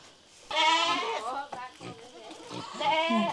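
Goats bleating nearby at a small rural farm pen, several loud wavering cries in quick succession, with a voice talking among them.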